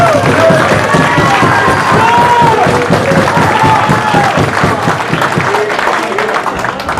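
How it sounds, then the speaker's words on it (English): Loud, sustained applause from a fight crowd honoring two young boxers after the final match of a boxing event, with cheering and shouts mixed into the dense clapping throughout. "both of these young men deserve a big round of applause"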